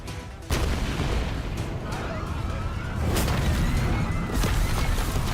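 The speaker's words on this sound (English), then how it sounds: "These guys are willing to fucking just shoot cannons at a goddamn building to kill me?" Cannon fire from the video game Like a Dragon: Pirate Yakuza, a heavy boom that opens a dense, continuous barrage of loud blasts and crashing impacts, with further sharp booms later on and voices shouting over the din.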